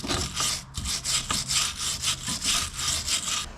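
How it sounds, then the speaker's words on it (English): A wire brush scrubs rust and chunks off car brake parts in steady back-and-forth strokes, a loud, close rasping rhythm with no talk. "just using a wire brush just to break off the chunks and all the goodness"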